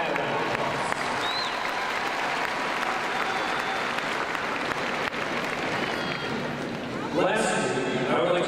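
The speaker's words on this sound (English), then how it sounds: "Please give that a round of applause." A graduation audience applauds steadily for students honored at a high school commencement ceremony, dense clapping filling the hall throughout and swelling louder near the end.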